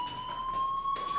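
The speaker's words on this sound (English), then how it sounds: "Hey, do you hear that fire alarm?" A fire alarm in the video game Life Is Strange, a steady high electronic tone ringing continuously and loudly over a faint background.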